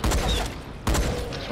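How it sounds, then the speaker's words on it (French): Two heavy shotgun blasts from the zombie survival game Dying Light The Following go off close and loud, one at the start and one about a second later, each trailing into a broad noisy decay. "Bon il se rapproche, c'est l'heure du fusil à pompe"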